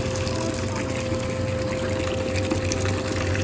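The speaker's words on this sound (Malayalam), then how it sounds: "നമ്മൾ കുറച്ച് വെള്ളം തുറന്നു വിട്ടപ്പോഴത്തേക്ക് നല്ല ചൂട് തിളച്ച വെള്ളം വരുന്നുണ്ട്" Very hot water gushes steadily and loudly from a tap at a general hospital, a dense continuous rush with a low mechanical hum beneath it.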